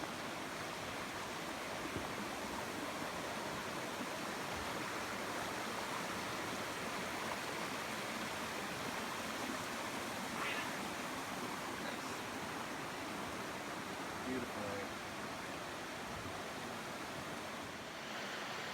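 The Cold River flows beside a suspension bridge on the Northville-Placid Trail, a steady faint rush of moving water with no voices.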